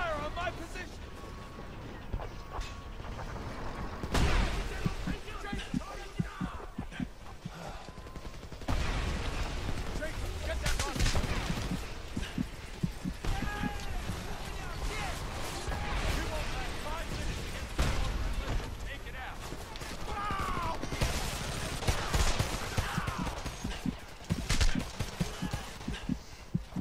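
Heavy gunfire in the video game Homefront, dense bursts of automatic fire and explosions rolling almost continuously at close range, with a player's voice talking over the battle.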